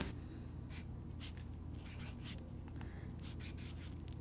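A calligraphy pen scratches across paper in short, quiet strokes, repeated irregularly close to the microphone with a faint hiss of room noise between them.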